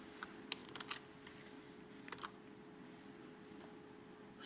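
Keyboard typing at a computer while setting up a Facebook page: a few scattered, faint key clicks in two short bursts, quiet and close, with no talking.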